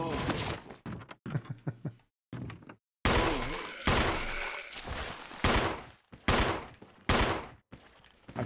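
Gunfire in the PC remake of Resident Evil, several sharp, loud shots spaced out over a few seconds with short silences between, alongside game sounds and a player talking.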